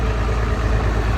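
A farm tractor engine idles with a steady, loud low rumble, ready to pull a no-till seed drill for planting cover crops after corn, with no voices present.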